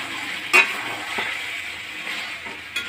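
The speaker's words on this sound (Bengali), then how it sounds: "ঢাকা চাপাটা খুলে আবার নেড়ে দিচ্ছি।" A spoon stirring chicken in a frying pan, a soft steady sizzle with a couple of sharp clinks and scrapes against the pan, fairly quiet, with no one speaking.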